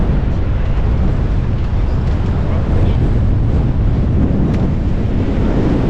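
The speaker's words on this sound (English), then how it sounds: "The wind is just relentless." Strong, gusty wind on the Esperance coast buffeting the microphone with a constant loud roar and no letup.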